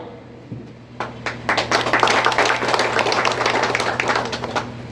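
An audience at a Lok Sabha campaign rally addressed by minister Rane claps, starting with a few scattered hand claps and swelling into steady, dense applause that holds for several seconds.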